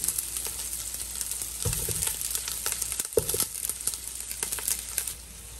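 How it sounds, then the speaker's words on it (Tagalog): Carrot and red onion fry in a pan with a steady broadband sizzle, broken by a few louder crackles and stirring bursts near the middle, with no talking. "So, yan guys, i-fry natin yung carrot. Yung onion, yung red onion."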